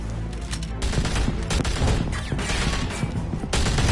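Rapid gunfire crackles through a Batman video game fight, a dense fusillade of sharp shots and crashes layered over constant low action noise, loud and close throughout.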